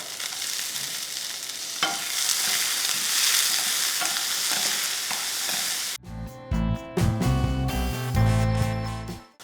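Soaked peanuts and chana dal fry in a pan for a village-style spinach and buttermilk dish. A loud, steady sizzle lasts about six seconds before music takes over.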